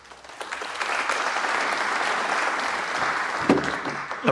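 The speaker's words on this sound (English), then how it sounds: "Appropriate applause." Applause ripples through the crowd at a British Open snooker match, a steady, moderately loud wash of clapping that swells quickly and holds evenly for several seconds.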